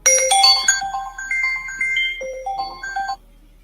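A phone ringtone plays a bright, electronic melody of tonal beeps for about three seconds, loud and close, then cuts off abruptly into silence.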